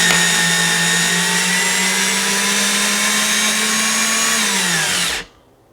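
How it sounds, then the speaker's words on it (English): A cordless drill driver drives screws, whirring steadily at close range for about five seconds, its pitch dropping slightly as it slows before cutting off abruptly. "use your cordless drill driver to get these snug"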